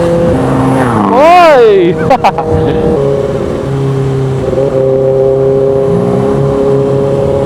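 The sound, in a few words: cars revving loudly on the expressway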